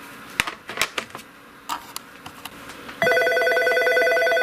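Key presses on a Norstar business phone system come as scattered short clicks, then a steady held multi-tone beep sets in partway through, heard close and alone with no talking.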